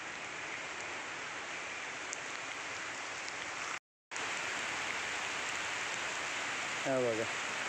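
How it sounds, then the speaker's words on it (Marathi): Rain falls steadily around a residential society, heard from under a tree as an even, soft hiss throughout. A voice comes in briefly near the end. "हा बघा पाऊस पडायला लागला, चांगला पडतो आहे"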